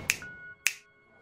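Two crisp finger snaps about half a second apart, close and clear, with a faint lingering tone after the first and no voices.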